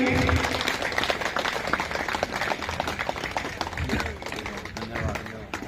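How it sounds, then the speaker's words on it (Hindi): An audience at a village religious gathering honouring a guest claps together, a dense stretch of applause that fades slightly toward the end, with voices mixed in beneath. "जोरदार तालियां बजती रहनी चाहिए"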